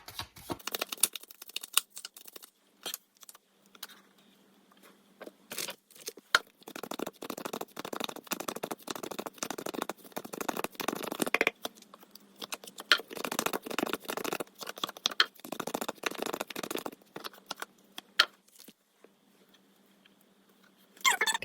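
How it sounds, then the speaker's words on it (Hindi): Tarot cards are shuffled by hand in repeated bursts of soft riffling and slapping, close and fairly quiet, with brief pauses between rounds and no talking. "सो यहाँ मैं पहले शफलिंग करूँगी वृश्चिक राशि।"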